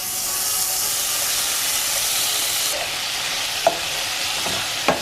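Chopped bacon fries in a pan, giving a loud, steady sizzle and hiss that runs throughout with a couple of brief clicks near the end, and no talking.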